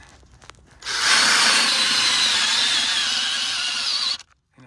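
Power drill driving wheel lug nuts tight on a car during front wheel bearing work: a loud, steady whirring buzz runs about three seconds up close, then cuts off abruptly to near silence.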